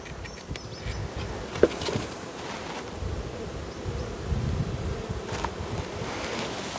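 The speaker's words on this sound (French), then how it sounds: "Je vois des abeilles en bas." Honeybees buzz around beehives during an inspection after bad weather, a soft steady hum mixed with breezy outdoor noise and a few faint knocks.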